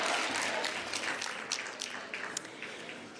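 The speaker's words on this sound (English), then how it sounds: "Let's give him a round of applause." Audience applause at a health training centre graduation ceremony, a steady wash of many hands clapping that gradually thins and fades over a few seconds, with scattered louder claps standing out.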